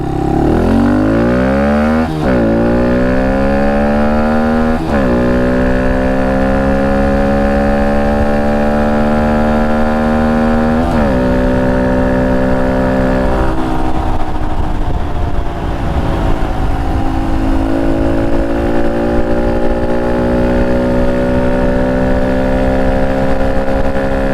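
A Honda Monkey motorcycle fitted with an Ohlins front fork upgrade rides down the road, its small engine droning loud and steady, rising in pitch through each gear before dropping at the next shift, with no voices.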